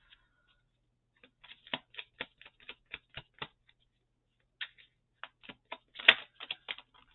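Quick papery flicks and taps in uneven bursts as tarot cards are shuffled by hand, close up with pauses between runs; no talking.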